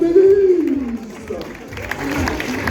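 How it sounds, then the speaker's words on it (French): A crowd at a June 2025 half marathon applauds and cheers an elite male athlete being introduced, the clapping building into a broad roar under a loudspeaker announcer's voice. "un tonnerre d'applaudissements pour Emmanuel Rodolphe"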